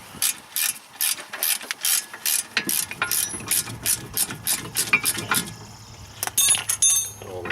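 A socket wrench ratchets out a brake caliper bolt on a BMW E36 3 Series during a front pad and rotor job, giving a fast run of close metallic clicks in repeated bursts with short pauses between strokes.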